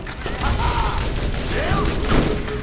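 Rapid gunfire in a Borderlands crystal cave fight, a loud continuous fusillade with whining energy effects and ricochets layered over it.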